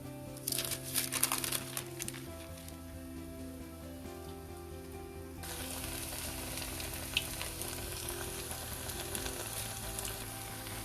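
Poha curd vadas fry in hot oil over a medium flame, a continuous crackling sizzle with a sharper burst of spatter near the start, close and moderately quiet, while a steady hum runs underneath.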